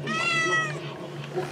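A cat, heard in a workshop, gives one close, clear meow that rises and falls, followed by quieter background sound.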